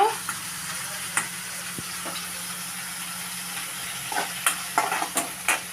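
Onions and green chillies fry in a pan for street-style egg noodles, a soft steady sizzle with scattered clinks and stirring knocks that grow busier toward the end.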